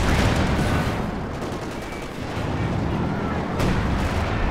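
Howitzer artillery fire in the Company of Heroes 2 strategy game, loud, rumbling blasts and battle noise blending into a continuous heavy din with a louder burst near the end.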